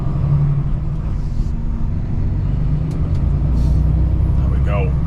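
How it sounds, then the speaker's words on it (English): Car wheels spin without grip, a loud, constant low engine rumble and whirring drone held close throughout, with a brief squeal near the end. "Again, I just can't get any grip. Just spinning my wheels."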